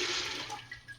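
Cold tap water pours into a large cooking pot of peas, a loud rushing splash at first that eases and thins out as the pot fills.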